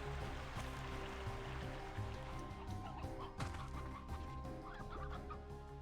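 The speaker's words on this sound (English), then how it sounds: "It's an old hen." A hen clucks in the video game Slime Rancher 2, repeated clucks and gobbling fowl calls heard over a dense, steady background with no speech.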